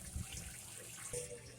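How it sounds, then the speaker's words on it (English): An LG washing machine drains water during a bulky cycle, a steady watery rush and trickle running throughout at moderate level, with a slight surge near the end. "Draining the water."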